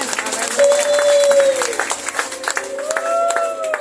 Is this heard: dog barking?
no